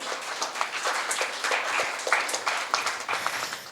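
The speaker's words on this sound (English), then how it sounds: "So a big round of applause for yourselves" Students applaud in a school hall at a Grade XI commerce internship event, a moderate, uneven patter of clapping with some louder individual claps standing out.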